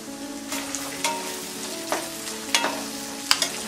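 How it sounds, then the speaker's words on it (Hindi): Green peas fry on a tawa with a steady sizzle, broken by several sharp stirring scrapes and taps at uneven intervals. "मटर फ्राई होने के बाद हम डालेंगे ये टमाटर"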